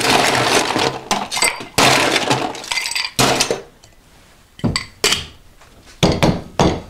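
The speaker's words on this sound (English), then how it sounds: "We're going to ice up our glass." Ice cubes tumble into a cocktail glass while a Baileys chocolate martini is made, giving loud clinking, clattering bursts with brief quiet gaps between scoops.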